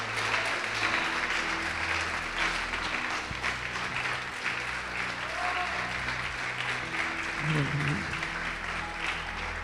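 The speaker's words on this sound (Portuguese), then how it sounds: "Quem pode aplaudir o Senhor Jesus por isso?" Church congregation applauding during a worship service, a sustained wash of clapping with a low hum and faint background voices throughout.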